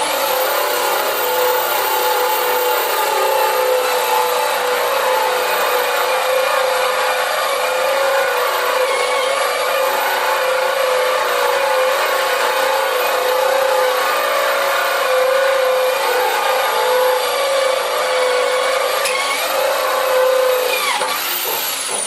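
A core cutting drill bit bores a hole through a gas pipe with a continuous loud grinding whine that holds steady for a long stretch and shifts in pitch briefly near the end.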